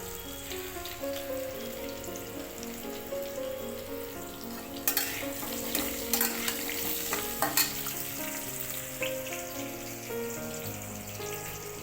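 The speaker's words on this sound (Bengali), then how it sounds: "আর এই যে আলুগুলো ভাজতে দিয়েছি" Potatoes fry in a pan with a constant, busy sizzle. A few sharp clinks and scrapes of stirring stand out partway through, and no one speaks.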